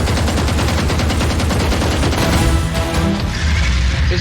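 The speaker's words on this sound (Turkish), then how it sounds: "Duvardan geçtiği için mermi hasar düşüyor." Rapid automatic gunfire rattles out in quick repeated bursts during a Valorant match, loud and close with bullets fired through walls, the shots stopping near the end.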